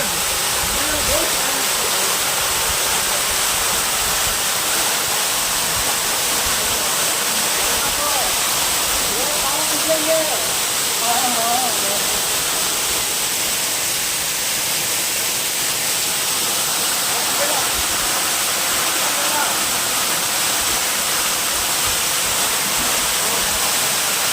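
Manikyadhara waterfall near Chikkamagaluru pours in a constant, loud hiss of falling water, close and unbroken, with voices talking faintly beneath the rush.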